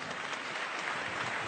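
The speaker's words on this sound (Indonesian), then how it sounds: "Boleh tepuk tangan, Dahlan Iskan." A studio audience at an Indonesian talk show breaks into applause, a continuous wash of clapping heard at a fairly faint, even level.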